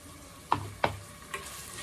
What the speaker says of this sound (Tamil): போட்டு அதையும் நல்லா ஃப்ரை பண்ணணும்